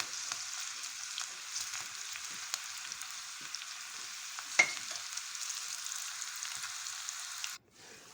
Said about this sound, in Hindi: तो थोड़ा सा फ्राई कर लेंगे।